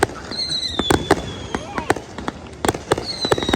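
Repeated sharp bangs from a Fourth of July fireworks display burst at irregular intervals, with whistling rising streaks between them and voices talking in the background.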